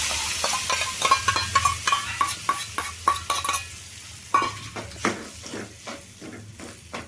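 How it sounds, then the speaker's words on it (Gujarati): A spoon stirs yogurt into a spiced mixture in a pan on a switched-off stove, making a series of close, rhythmic scraping clicks against the metal, with a faint residual sizzle. "હવે આપણે આમ હલાવી લેવું ગેસને તો આપણે બંધ જ કરી દીધો છે"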